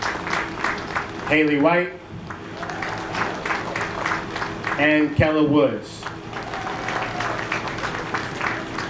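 Audience applause at a school athletic awards ceremony fills the hall continuously, a steady wash of clapping running beneath an announcer who reads names over a microphone.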